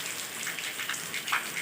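Heavy rain pours in a steady, close hiss with faint splashing patter, continuous and moderately loud, with no voices.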